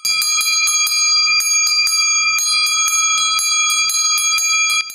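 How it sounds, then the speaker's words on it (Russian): Bells from a private bell collection displayed in a home museum ring loudly and brightly, struck in quick repeated clusters with long shimmering overtones, close and clear with no talk. "А пока музеем стал ее дом, где хранятся удивительные экспонаты колокольной галереи Юли Чуриловой"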